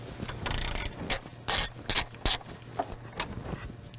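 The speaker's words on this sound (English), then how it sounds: "Use a T25 Torx to remove them" A T25 Torx ratchet works loose the radiator mounting bolts on a BMW 335i with an N54/N55 engine. It gives out several close, sharp bursts of rapid clicking separated by brief pauses, with softer single clicks between them and no talking.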